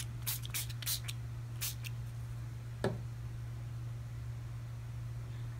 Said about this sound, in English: and I just spray.